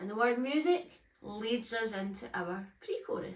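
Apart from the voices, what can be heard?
No everyday noise stands out behind the speech.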